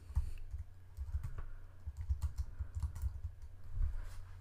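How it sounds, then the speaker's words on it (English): A web address typed on a computer keyboard: a steady, quiet run of close key clicks for a few seconds, with no talking. "we can type in an internet address"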